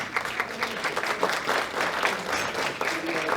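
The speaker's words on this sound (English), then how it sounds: "A round of applause for the councillor, please." An audience claps steadily for a few seconds, a dense patter of many hands at moderate volume, at a powerlifting championship.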